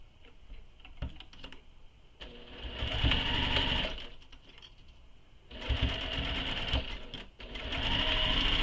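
A sewing machine stitches pieces of a circular bag together in several bursts of fast, whirring stitching separated by short pauses, close and clear with a bright mechanical buzz.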